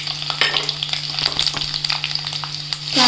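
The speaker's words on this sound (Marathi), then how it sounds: "जिरं मोहरी टाकते" Cumin and mustard seeds, with garlic, fry in hot oil in a kadai for Maharashtrian misal, giving a loud, steady sizzle with crackling pops and scraping stirs throughout.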